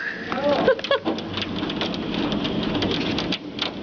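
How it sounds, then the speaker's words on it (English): Hail pelts down hard in Calgary, a dense, continuous roar of hard pellets striking roofs and ground nearby, with a few sharp knocks early on and voices briefly exclaiming at the start. "I think it's smaller hail now"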